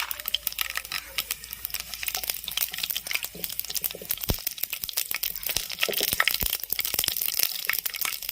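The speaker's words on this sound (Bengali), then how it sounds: "তেল গরম হয়ে গেছে, শুকনো লঙ্কা দিয়ে দেব, ফোড়নে যে সর্ষে দিয়ে দিলাম হাফ চামচ" Mustard seeds and dried red chilli sputter in hot oil as a tempering for fried banana stem, giving a dense run of sharp crackles and pops close by with no talk over it.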